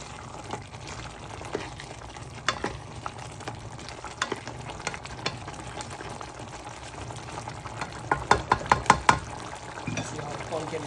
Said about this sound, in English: See how the pumpkin is cooking.